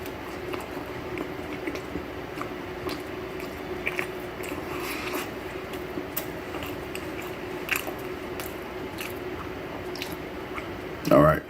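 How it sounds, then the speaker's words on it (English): Someone bites into a Mystic Pizza cheese pizza with a soft, non-crunchy center, soft squishy mouth sounds under faint background hum, ending in a brief louder bite. "Let's go ahead and take our first bite here."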